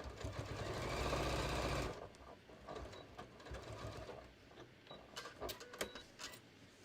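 A sewing machine stitches a beach tote bag in a fast, steady two-second run, then stops, leaving quieter clicks and fabric handling close by.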